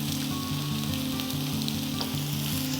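Onions frying in oil for hot pot mixed rice, a steady close hiss and crackle of sizzling under a constant musical backing.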